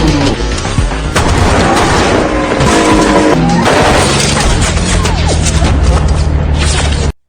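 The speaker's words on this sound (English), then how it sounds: "Lola was shot while shielding Carlos from gunfire" Gunfire rings out during a fight in a film, loud dense bursts of shots and crashing impacts running continuously over a tense backdrop.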